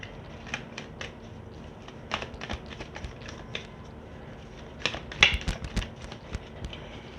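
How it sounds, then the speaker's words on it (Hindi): Tarot cards are shuffled by hand in soft, irregular riffling and tapping bursts, close and fairly quiet, with no voice over them. "फिर से शफल करूँगी।"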